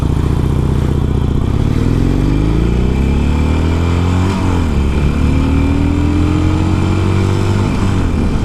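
A Harley-Davidson motorcycle accelerates loudly and steadily, engine pitch rising through the gears with a brief dip around a shift, heavy low rumble dominating throughout.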